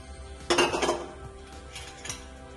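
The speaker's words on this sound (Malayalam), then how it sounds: "ഒന്ന് ഇളക്കി കൊടുക്കാം" A spoon scrapes and clinks against a cooking pan while stirring crushed onion, garlic and green chilli, a few short close metallic strokes over a quiet background.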